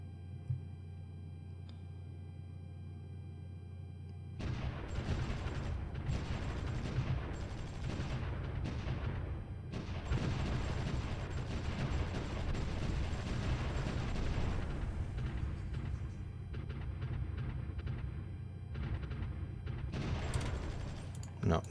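Artillery fire in the strategy game Supreme Ruler Ultimate, a steady barrage of booming shots and rumbling blasts that begins abruptly and continues loud with little break, then drops into a brief lull before a final burst.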